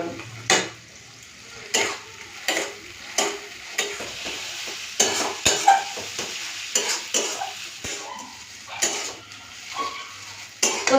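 Bean paste (shim bata) frying in a pan until its water cooks off, a low sizzle under repeated sharp scrapes and clinks of a spatula against the metal pan, evenly spaced across the stretch.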